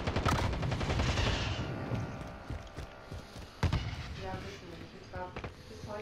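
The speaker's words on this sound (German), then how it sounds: "Auf mich wird geschossen." Gunfire in a Call of Duty video game, with a burst of rapid shots at the start followed by scattered single cracks and thumps, fairly quiet overall, with voices talking in between.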